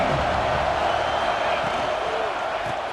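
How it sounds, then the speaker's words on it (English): A steady, dense roar from a stadium crowd in the EA Sports College Football 26 video game, sustained throughout beneath a commentator's speech. "This crowd ready to make its presence known."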